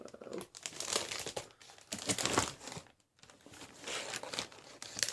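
Crinkly plastic packaging being pulled open around a folder from an Avon starter kit: close, busy crinkling and rustling in bursts with one brief pause, no talk.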